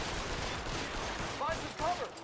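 Gunshots during a video game featuring Cole Phelps, a few quick shots in a short flurry, heard faintly and mixed with other game sounds.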